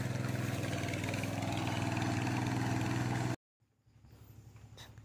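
A modified plough tractor engine working in deep rice-field mud, a loud steady low chugging drone that cuts off abruptly after three seconds, then returns much quieter and rougher as it restarts.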